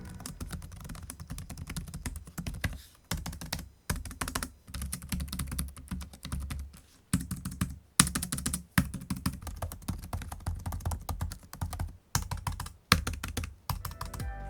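Typing on the keyboard of an Ignik ViewBook X 2020 laptop, a fast continuous run of soft, muted key clicks with brief pauses, close and clear with no talk.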